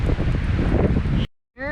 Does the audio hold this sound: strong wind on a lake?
yes